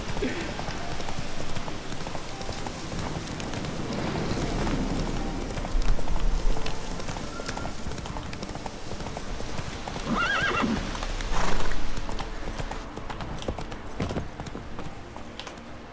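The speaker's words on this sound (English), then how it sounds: "I hate my horse. Run, Roach" Steady clip-clop of a galloping horse with a couple of loud horse whinnies, over The Witcher 3: Wild Hunt game ambience and some talking.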